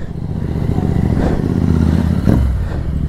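Royal Enfield Interceptor 650 motorcycle passing on a breakfast ride route to Kohedagutta, a steady loud engine drone with a brief swell near the end as it goes by, alongside other riding motorcycles.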